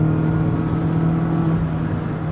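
A 2021 Mazda Miata RF GT ND2 engine with a new tune revs hard near 7,500 RPM, a steady loud drone with a strong harmonic whine held close, easing slightly toward the end.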